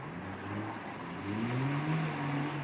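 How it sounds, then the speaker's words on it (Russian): Cars spin and rev in a snowy park in Yakutsk at minus thirty, a distant engine rising and falling in pitch as it accelerates, steady and moderately loud against outdoor ambience. "А здесь, кому, видать, лень туда ехать, вот здесь могут покрутиться на машине."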